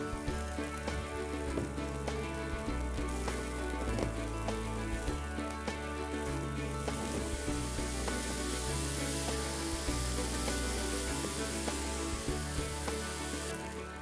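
Boiled rice for pulao frying in a pan, a soft steady sizzle with faint crackles and light stirring, quiet and continuous under a music bed, with no talking.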